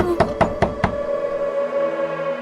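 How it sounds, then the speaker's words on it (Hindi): Four sharp knocks land on a room door in quick, even succession, followed by a lingering tonal hum with no voices. "तभी उनके कमरे के दरवाजे पर कोई दस्तक देता है"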